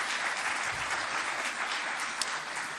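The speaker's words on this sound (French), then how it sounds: "Et je vais demander à Célicia, que nous allons accueillir sous un tonnerre d'applaudissements" Audience applause at a French-language church gathering, a dense steady wash of clapping that holds at an even level throughout with no voices standing out.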